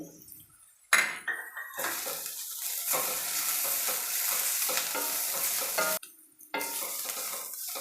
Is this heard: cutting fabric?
no